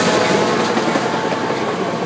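A train rolls past close by, loud and continuous with a steady roar and rattle of railroad cars, nothing else audible.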